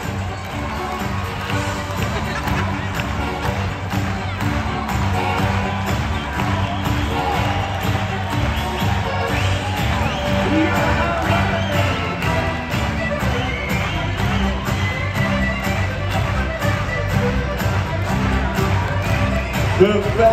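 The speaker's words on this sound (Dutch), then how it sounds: "En we klappen even." An audience at the KWPN stallion show claps along to loud music, with steady crowd noise and scattered cheering running through the whole stretch.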